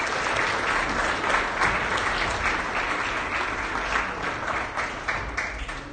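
Loud, sustained applause from a crowd at an event in Grindavík, a dense, even roar of many hands clapping throughout.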